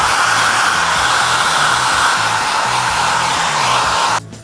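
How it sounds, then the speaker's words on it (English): A hair dryer blows steadily to dry paint on homemade Fallout-style armor, a loud close whooshing roar with a low motor hum that holds level, then cuts off abruptly just before the end. "Use the hair dryer."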